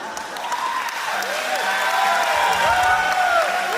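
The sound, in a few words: wedding reception crowd applause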